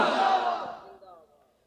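Crowd at a religious gathering roars a loud collective shout in reply to a takbir call, a dense burst of many voices that swells then fades over under two seconds.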